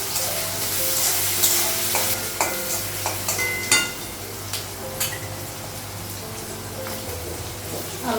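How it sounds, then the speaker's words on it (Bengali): Onion frying in a pan with potato and green chilli, a steady sizzle running throughout with scrapes and knocks of stirring and occasional clinks against the pan, close by and fairly loud. "পেঁয়াজটা একটু ভেজে দিই।"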